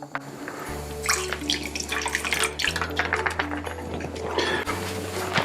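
Liquid poured into a measuring cup while making gravy for tri-tip sandwiches in a kitchen, a bubbling, splashing pour over a few seconds with a steady low hum beneath.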